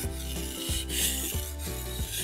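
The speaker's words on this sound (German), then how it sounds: "Klinge ansetzen, stabilisieren und dann schön von oben nach unten abziehen." Knife blade drawn across a whetstone in repeated strokes, a steady close rasping over a droning tonal hum that carries through the whole stretch.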